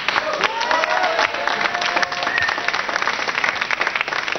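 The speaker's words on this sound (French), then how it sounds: "Alors vous allez l'applaudir, Antoine Giacomoni." A television studio audience bursts into applause and cheering for a guest, a dense, even roar of clapping with a few raised voices that carries on without a break.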